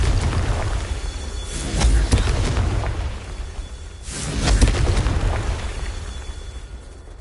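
Spell blasts in Hogwarts Legacy: two heavy booming explosions, one near two seconds and another near four and a half, each a loud low burst with a rushing tail over a continuous rumbling game background.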